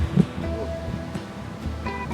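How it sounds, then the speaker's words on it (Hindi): Sea waves wash onto the beach at Benidorm, Spain, heard as a steady, soft surf roar with some wind and faint background sounds, no clear talk. "ये लहरें"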